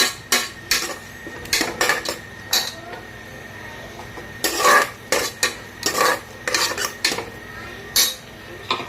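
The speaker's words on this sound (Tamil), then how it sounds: "அதே நல்லா எண்ணெய் பிரிஞ்சு வர்ற அளவுக்கு நம்ம நல்லா திக்காகிற அளவுக்கு நம்ம இதை நல்லா வதக்கிக்கலாம்" Tomato paste being sautéed in oil in a pan for tomato rice, heard as a close, steady run of spoon scraping and clinking against the pan with a faint sizzle underneath.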